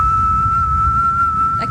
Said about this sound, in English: I'm not whistling at you. I'm whistling for the show.